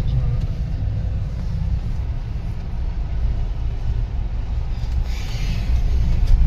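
Heavy road traffic in a jam on the way to a Mahindra workshop in Angul, a continuous low engine rumble of idling and creeping vehicles heard from inside a car, with occasional faint voices.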